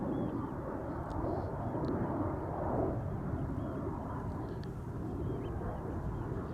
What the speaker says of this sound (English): This is KLM flight 913 to Aberdeen. This is an E2 Embraer 195.